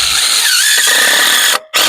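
A power drill drives screws into the runner of a wooden gate, a loud close whine that holds steady, stops briefly and then starts again with no talking.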